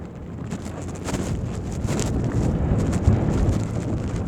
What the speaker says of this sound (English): It is pretty windy out today.